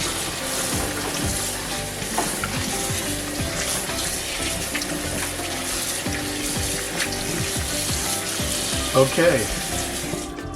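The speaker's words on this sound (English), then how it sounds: "I'm just going to use my left hand and just rinse all of them" Tap water runs continuously over pieces of raw beef being rinsed by hand in a kitchen sink, a steady splashing stream with occasional clatter, and one brief spoken word.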